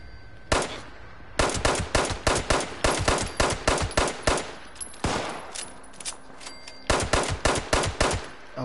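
Bursts of automatic gunfire from enemies shooting back in Fallout 76, loud and close, rattling in rapid volleys with short pauses between them and no talk over the shots.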